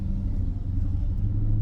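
Maserati GranTurismo S engine idling nearby with a deep, steady low rumble, even and unbroken for the short stretch with no voices over it.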